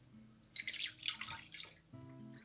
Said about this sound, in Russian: К яйцам добавляю 200 мл воды.